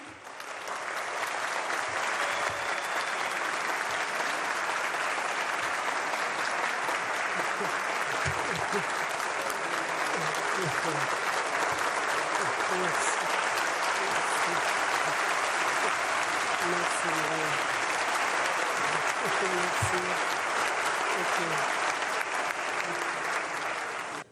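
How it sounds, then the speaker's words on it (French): Sustained, loud applause from a large crowd continues for a long stretch, thick and even, with faint voices mixed beneath. "Donc je vous demanderai de l'applaudir."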